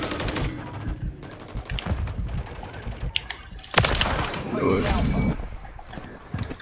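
Automatic gunfire from the Modern Warfare 3 video game, rapid bursts of shots with mechanical clicks and rattles, fairly loud and continuous through the stretch with a heavier burst near the middle.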